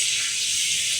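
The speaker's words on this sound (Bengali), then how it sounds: "আলুগুলোকে আমি এর মধ্যে দিয়ে দিলাম," Boiled potatoes tipped into hot tempering oil give a brief, steady, close hiss of sizzling.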